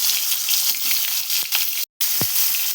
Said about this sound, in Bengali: প্রথমে আমি কিন্তু আলুটা ভাজবো তারপর বেগুনটা ভেজে নেব